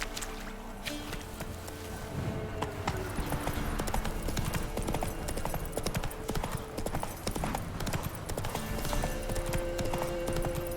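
Galloping horse hooves in The Witcher 3, a steady rapid clip-clop of hoofbeats continuing throughout, close and loud over ambient game sound.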